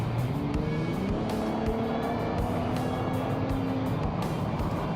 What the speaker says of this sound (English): See how loud this exhaust is now